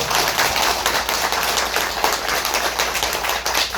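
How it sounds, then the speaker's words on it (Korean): An audience at a redevelopment lecture in Haeundae, Busan claps for the speaker, a continuous dense patter of applause held at an even level throughout. "긴 시간 강해 주신 법무사님께 큰 박수 부탁드리겠습니다"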